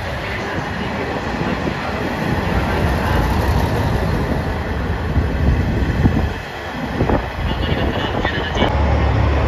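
A JR Shikoku 1000 series diesel railcar pulls into Kochi Station with a steady, loud rumble that holds throughout, and a brief dip midway.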